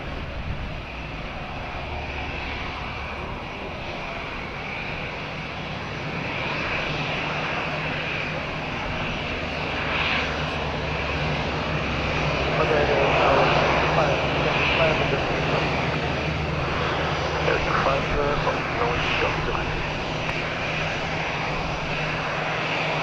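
A Ryanair jet departs Madeira Island Airport, its engines roaring from a distance as a broad steady rumble that swells and peaks midway, with radio chatter and voices over it.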